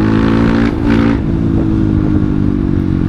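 Kawasaki KLX supermoto bored up to 200cc accelerates hard, its engine a loud, steady, close-up drone with dense harmonics that swells briefly early on, running without any speech over it.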